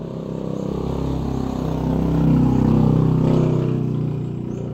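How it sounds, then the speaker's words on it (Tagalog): Several big motorcycles roar past close by, a continuous loud engine rumble that swells to a peak midway and then eases off as the bikes pass. "Maraming mga motorsiklo na dumaan, yung malalaki ang busis"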